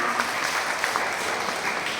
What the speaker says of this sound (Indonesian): Tepuk tangan untuk para OMK kita.